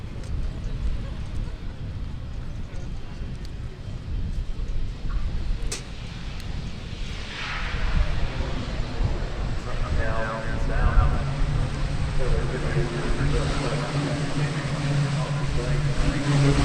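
A Diamond Dart 750 propeller aircraft flies its display at the Farnborough Airshow, a turboprop drone that swells louder and closer midway while a commentator talks over it.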